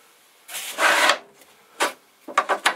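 Tool scraping a clay pottery piece during trimming, a sustained rubbing rasp followed by several short scrapes, close and clear.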